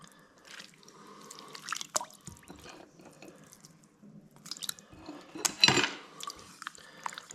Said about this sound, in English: I'll just drop my fillet straight in.